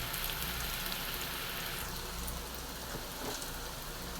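Steady, dense crackling sizzle of onions frying in hot oil, close and continuous with no voices.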